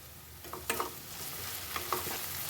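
A tempering with turmeric, salt and garlic sizzling in a pan for fenugreek-leaf chakkoli, with a soft continuous fry hiss broken by a few sharp scraping stirs of a spoon.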